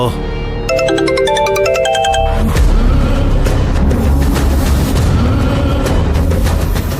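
A phone ringtone plays a short repeating electronic melody for about two seconds, then gives way to loud, booming, dense sound.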